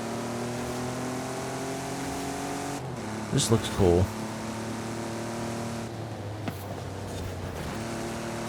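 Racing trucks in Forza Horizon 5 droning with a steady engine hum, a burst of revving and tire noise midway, while a voice speaks briefly over it.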